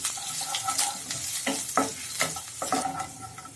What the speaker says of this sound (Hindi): और चलाते हुए इनको हम थोड़ा सा भून लेंगे कि जो इनका कच्चापन है वो निकल जाए।